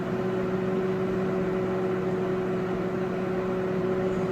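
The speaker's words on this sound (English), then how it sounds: "And it will microwave." A microwave oven runs steadily while cooking an egg omelette on a plate, giving a constant close hum with a low electrical drone and even fan noise throughout, with no voices.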